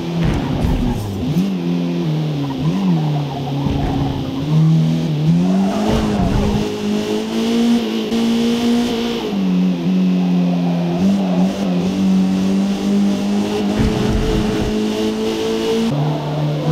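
Race car lapping a circuit in Forza Motorsport, a loud continuous engine drone that climbs and drops through gear changes, with brief tire squeal in the corners.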